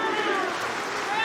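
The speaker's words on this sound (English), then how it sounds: "But look at the crowd. Listen to the crowd," At an OKTAGON MMA fight, a large arena crowd roars and cheers in a dense, steady wash of noise with bright, shrill edges.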